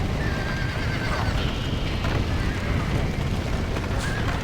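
Horses neigh and whinny in a burning barn in the Red Dead Redemption video game, loud shrill calls rising over a dense, steady roar of background noise, with hooves clopping beneath.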